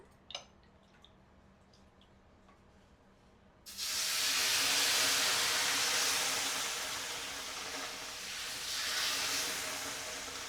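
Rava dosa batter is poured onto a new, oil-rubbed seasoned pan. A few faint clicks give way to a sudden loud, sustained hiss of sizzling that swells and eases slightly as it continues.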